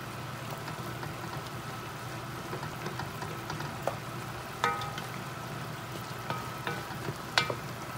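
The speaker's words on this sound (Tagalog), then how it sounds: "So ngayon ay haluin na natin." A vegetable dish simmering in coconut milk is stirred in the pot, giving a steady bubbling sizzle with occasional soft scrapes and clinks of the spoon, moderately quiet and with no talk.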